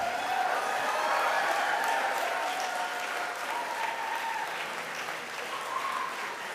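Graduation audience at a health faculty ceremony claps steadily and densely for several seconds, a large hall full of applause with a faint murmur of crowd voices underneath.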